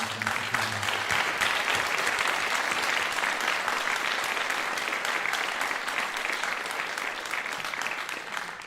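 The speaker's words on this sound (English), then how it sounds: "So let's give a big round of applause for Mr. Kinnunen" A graduation audience applauds Mr. Kinnunen at an alternative graduation ceremony, a dense, steady wash of many hands clapping at once that keeps going without a break from start to finish.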